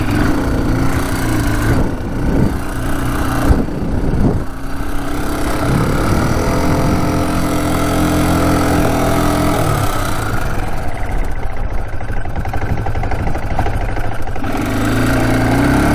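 A broken ATV's engine runs steadily outdoors on a windy day near a burn pile, a loud, continuous, rough mechanical drone that holds for the whole stretch with slight rises in pitch, and no talking over it.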